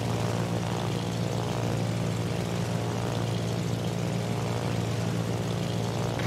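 Propeller fighter planes launching from a Soviet tier 8 aircraft carrier, the Chkalov, in the naval game World of Warships, giving a loud, steady engine drone that holds without a break throughout.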